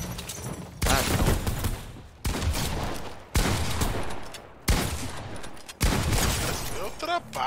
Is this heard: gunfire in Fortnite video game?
yes